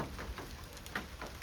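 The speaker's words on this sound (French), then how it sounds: "Punaise, la pluie." Rain falls outdoors in a meadow with horses, a soft continuous patter with scattered drop taps, fairly faint and without speech.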